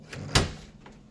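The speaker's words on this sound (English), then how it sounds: "I opened the door and braced myself for what I might see" A single apartment door swings open in a quiet hallway, one sharp close thud-like burst followed by a fading tail and a faint softer knock, with no talk over it.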